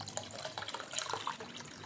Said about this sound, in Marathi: आणि त्यामध्ये पाणी घालायचे